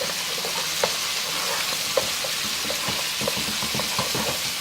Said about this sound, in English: So just get that turkey cooking.